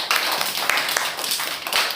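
Children in a kindergarten class clapping their hands, a quick run of sharp claps over roughly two seconds with some voices mixed in.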